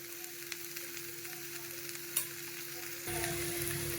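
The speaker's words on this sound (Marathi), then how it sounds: "एका साईडला तेल आणि कांदा आहे त्यातच मी फिरवणार" Spices stirred into hot oil and onion in a pan while making mini samosas, a steady soft sizzle and frying hiss with faint scraping, growing louder near the end.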